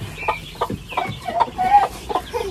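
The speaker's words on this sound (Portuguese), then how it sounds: "Quer ver a galinha da Alina" A chicken clucks nearby in short, irregular bursts of clucks and squawks, with small gaps of quiet between them.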